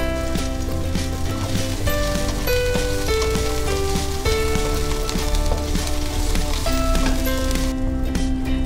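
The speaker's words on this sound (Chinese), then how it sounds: "热锅落油，爆香啲红葱头、" Shallots, garlic and ginger spit in hot oil in a wok, a steady dense crackling hiss that runs the whole time beneath loud melodic background music.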